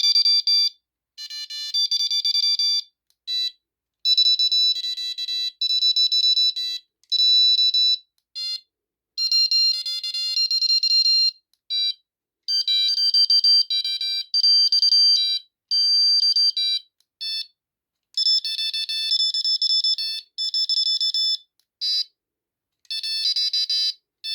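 Long run of high electronic beeping tones from a Prologic carp fishing bite alarm as its tone settings change, in bursts of varying length and pitch, some gaps between them, loud and close with no voices.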